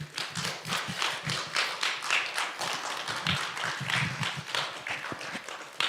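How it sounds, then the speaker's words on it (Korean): Hand clapping from an audience welcoming a pastor at a Christian association's monthly meeting in Cheonan, individual claps audible in a moderately quiet, fairly distant patter that continues throughout. "뜨거운 박수로 환영해 주십시오"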